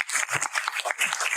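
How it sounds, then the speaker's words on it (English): Symposium audience gives a brief round of applause, a dense patter of many hands clapping at moderate loudness from a distance. "Applause for Johannes."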